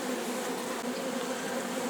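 Honeybees swarm around an open beehive in a dense, steady buzzing drone that stays close and even throughout, with no voices.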